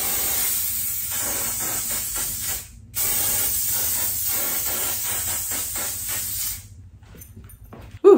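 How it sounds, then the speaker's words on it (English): An aerosol hairspray, ORS Olive Oil Fix It Super Hold Spray, hisses in two long continuous bursts close up, with a short break between them, then falls quiet. "I'm just going to spray some of the ORS Olive Oil Fix It Super Hold Spray."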